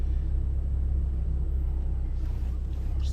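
A Lamborghini Huracan Spyder idling low as it reverses slowly, a steady deep rumble holding constant and fairly loud with no revving.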